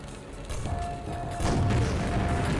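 Grenades burst in the shooter game Quake (Dissolution of Eternity), two muffled booms arriving about a second apart, each leaving a rumbling, noisy tail, fairly quiet against a game ambience.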